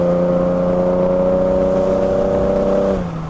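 A 1999 Plymouth Prowler's V6 pulls hard in regular drive, a loud, steady engine drone with layered harmonics sustained close by for about three seconds before dropping off as the load eases, with no talk over it.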